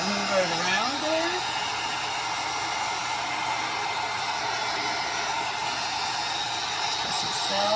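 A heat tool blows hot air over resin with a loud steady whooshing hum that runs throughout, and a brief voice is heard near the start.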